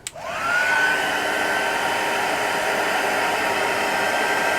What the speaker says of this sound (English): I'm going to go over it with my heat gun again.